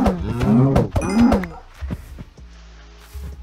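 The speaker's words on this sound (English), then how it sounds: "more cows have spawned" Cows in the video game Minecraft give two loud, close, drawn-out moos in a row, followed by quieter clicks and game sounds.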